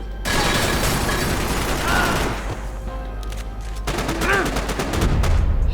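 Dense gunfire in Max Payne 3, loud sustained bursts of automatic shots and booms with rapid rattling volleys, heavy and continuous throughout, with brief speech mixed in.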